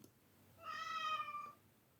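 A single drawn-out cat meow, clear and fairly close, rising and falling over about a second against a quiet background.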